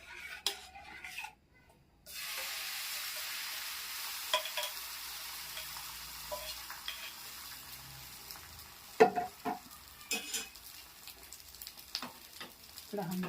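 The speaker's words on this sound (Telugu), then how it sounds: "ఇప్పుడు ఆమ్లెట్ వేస్తున్నా. ఆయిల్ వేసిన." An omelette fries in oil in a pan for bread omelette, a steady sizzle running throughout, broken by a brief quiet gap near the start and by scattered scrapes and clinks of a utensil.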